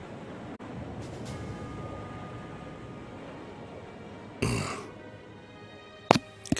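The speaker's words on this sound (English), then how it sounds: "Could you stop burping so loud?" A single loud, rough burp bursts out over a steady background hiss, followed shortly by a brief sharper sound near the end.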